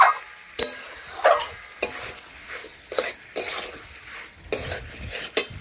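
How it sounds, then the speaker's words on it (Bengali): Spices sautéing for a paneer dish are stirred and scraped in a sizzling pan with uneven, close bursts of spoon-on-metal scraping, about a dozen strokes over a steady fry. "এভাবে ভালোভাবে কষে নেওয়ার ফলে মশলা থেকে কাঁচা গন্ধ চলে যাবে"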